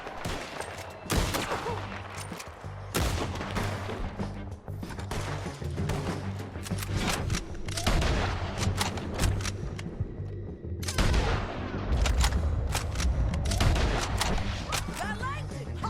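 A sustained Red Dead Redemption 2 gunfight roars throughout, with dense volleys of overlapping shots and heavy booming reports, loud and continuous with a few brief lulls, voices faintly underneath.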